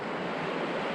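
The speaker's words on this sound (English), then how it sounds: "I guess this is the Clearwater River" Clearwater River running beside a campground in Wyoming, a steady broadband rush of flowing water with no breaks, filling the whole moment at an even, moderate level.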